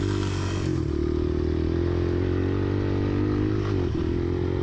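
Dirt motorcycle racing across a field section of a woods course, a loud continuous engine drone close by, with small dips in pitch as it shifts through the gears, no talk.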